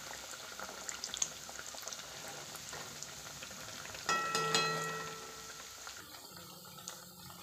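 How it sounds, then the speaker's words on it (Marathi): Sabudana vadas deep-frying in hot oil, a steady bubbling sizzle with a louder burst of crackling partway through before settling back, no talking. "असे मस्त गुलाबी सर कलरवर तळून घ्यायचे."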